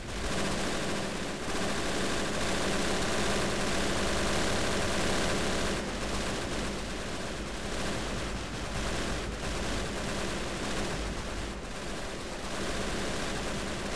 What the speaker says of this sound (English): Flak's still firing.